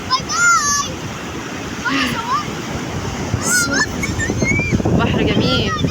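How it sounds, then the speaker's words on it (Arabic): Rough sea surf breaking at a beach in Marsa Matrouh, a steady loud wash of waves with splashes, under children's and adults' voices talking throughout. "بحر جميل بس غدار، موجة عالية وفي نوة شديدة"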